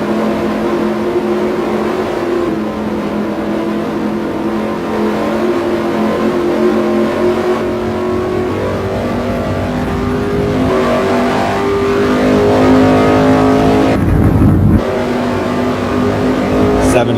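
Street stock race cars roar around an oval track, engines droning and revving steadily at close range, swelling as cars pass, with a brief burst of louder engine noise near the end.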